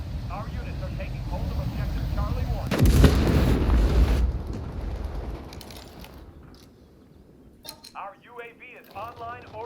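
A heavy, rumbling blast from an airstrike in the World War 3 shooter game, loud and close, followed by a fading roar and scattered gunfire, while voices talk over it.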